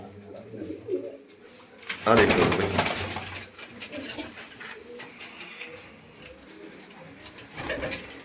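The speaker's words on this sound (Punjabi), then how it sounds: "ਭੰਕਰੀ ਕਬੂਤਰ ਆ ਬਈ ਬਹੁਤ ਚੰਗਾ ਉੱਡਦਾ" Pigeons kept by a fancier coo softly and repeatedly close by, while someone talks over them in the middle and again near the end.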